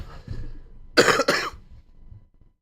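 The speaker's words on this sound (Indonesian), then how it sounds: "Sampai batuk ngomong hoaxnya." Two sharp coughs in quick succession, close and fairly loud, after a brief murmur of breath.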